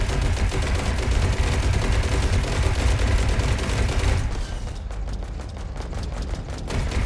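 Cannons in the game ITER fire in a rapid, continuous barrage of dense booming shots, loud and sustained, easing slightly toward the end.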